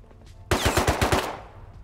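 A rapid burst of about six automatic gunshots in the survival game Rust, loud and close, ending in a short fading echo.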